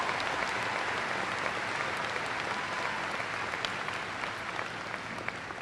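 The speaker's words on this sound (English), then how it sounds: "Let's have another round of applause for all of these outstanding students." A large audience at a 2015 commencement ceremony gives a sustained round of applause, dense and even clapping that holds steady throughout without a break.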